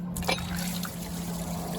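Coolant trickles and splashes steadily out of an MGB engine after the water pump is pulled loose, a close, continuous liquid dribble over a low steady hum.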